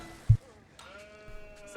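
A single short sheep bleat from a strategy video game, heard while scouting with a Mongol Khan unit, sitting over faint game ambience and low music tones.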